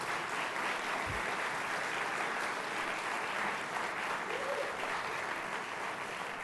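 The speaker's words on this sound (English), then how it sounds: "Please give them a nice round of applause." An audience at an honors colloquium applauds continuously for several seconds, a dense, steady wash of clapping from a roomful of people.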